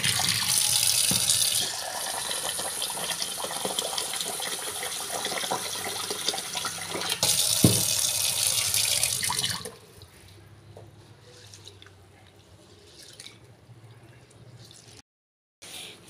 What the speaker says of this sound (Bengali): এখানে চালটা ধুয়ে নিচ্ছি